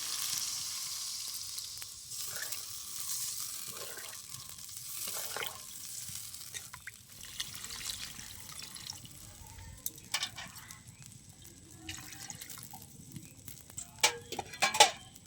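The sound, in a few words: water poured into sizzling spiced masala in pan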